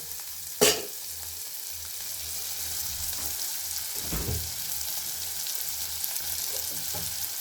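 Onions and green chillies fry and sizzle steadily in a pan for egg curry. The hiss is constant, broken by a sharp scrape of a spatula early on and a softer stirring scrape a few seconds later.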